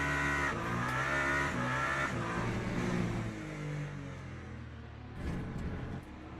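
A Porsche racing car in a driving game, its engine whining under load with tire squeal, then a sudden drop and a short rough scrape as the car skids and crashes.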